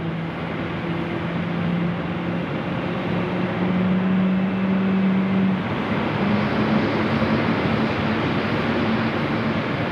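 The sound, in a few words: aircraft engine starting at Sydney Airport at night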